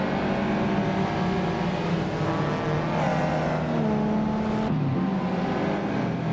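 Race cars, including a 1996 Mazda Miata, roar around Circuit Paul Armagnac in a racing game, with a dense, steady engine drone of several cars revving and shifting pitch close by, with no talking.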